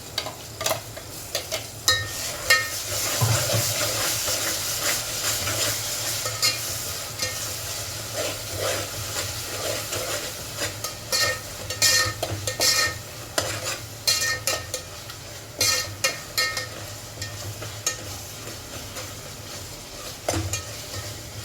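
Ginger garlic paste frying and being stirred with onions in a pan for vegetable rice, a steady sizzle running throughout with repeated scraping strokes of a ladle against the metal, close and alone without speech.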